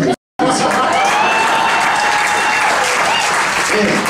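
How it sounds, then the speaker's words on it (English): Audience at a stand-up comedy show in Sarasota, Florida, breaking into loud sustained applause with some cheering, a dense crowd of clapping hands that continues steadily after a brief cut at the start. "give a round of applause for y'all."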